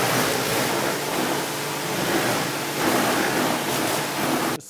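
Mountain bike rinsed with a water spray, a loud continuous hiss of spraying water that surges slightly midway and cuts off abruptly at the end.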